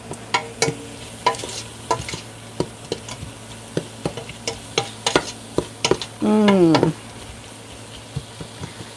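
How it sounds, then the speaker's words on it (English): Vegetables and spices being stirred in a pan for red beans, a spoon knocking and scraping in scattered taps with one brief louder scrape midway, in a quiet kitchen with a low steady hum. "So we'll get that stirred up, flavoring all the veggies."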